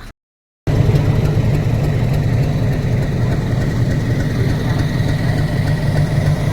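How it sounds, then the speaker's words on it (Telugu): The engine of an old toy train in Ooty idles steadily and loudly with a constant low rumble and vibration after a brief silent gap at the start. "ఇది ఓల్డ్ ట్రైన్ అనమాట, టాయ్ ట్రైను. ఇంజన్ చూసారా ఇలా ఉందన్నమాట."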